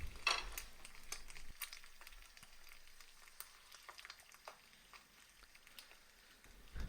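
An egg fries in a non-stick pan with a steady, soft sizzle and bubbling crackle, scattered pops and spits rising over the hiss throughout, close and fairly quiet, with no voices.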